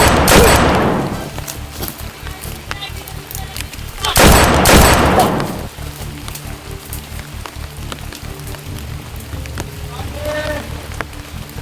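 Loud bursts of rapid gunfire crackle in two heavy volleys, with scattered shots and game noise in between.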